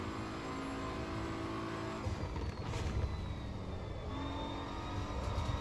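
A race car engine drones steadily during a multiplayer race on the Nordschleife in Assetto Corsa EVO, a continuous whining tone that shifts in pitch as the car accelerates and changes gear, with no talk.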